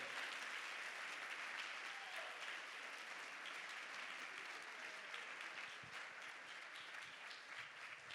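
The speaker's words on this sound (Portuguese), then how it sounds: "Dá um aplauso aí." A church congregation applauds together during a sermon, a sustained, even roar of clapping that sits at a distance and fades slightly toward the end, with no talking over it.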